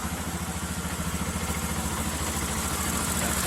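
A Romet K125 FI motorcycle engine idles steadily, a low rhythmic chugging with mechanical clatter, close and continuous throughout.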